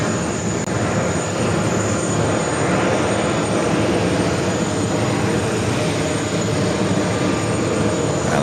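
Frontier Airlines jet in Reef Shark livery arriving from Denver and landing at JFK, a loud, steady broadband engine roar that holds close and constant throughout with no talk.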